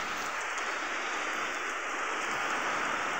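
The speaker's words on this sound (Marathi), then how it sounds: "आता थोडा थोडा पाऊस झालेला आहे" Continuous light rain, an even, hissing patter of drops on a surface, steady throughout with no voices.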